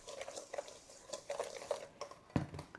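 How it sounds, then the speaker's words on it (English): Whisk stirring grated Parmesan cheese and other ingredients for chicken parmesan in a bowl, with soft rhythmic clinks and scrapes coming in quick irregular bursts, ending in one sharper knock, close and fairly quiet with no talking. "And I'm gonna give that a little whisk through."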